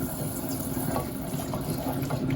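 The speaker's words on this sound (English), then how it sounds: "Okay, that is boiling" Water boiling in a pot while cooking a lentil casserole dessert, a continuous bubbling, gurgling wash heard up close with no talk.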